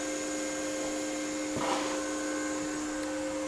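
A budget TIG welder keeps running after switch-off to cool itself, giving a steady electrical hum with fan-like whir and constant tones, one brief rustle partway through, no talking.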